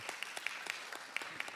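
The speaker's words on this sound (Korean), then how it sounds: "우리 인사하실 때 크게 박수하도록 하겠습니다." A church congregation claps for a newly introduced sound staff member at a youth service. The scattered hand claps are faint and distant.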